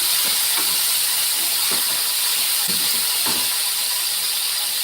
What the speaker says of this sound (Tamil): இந்த ஸ்டேஜில் நம்ம சின்ன வெங்காயம் பூண்டு தக்காளி போட்டுக்கிறோம் இதை நல்லா ஃப்ரை பண்ணிக்கிறோம்